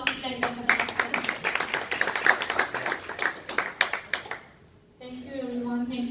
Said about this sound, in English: let's give them a huge round of applause to thank them for that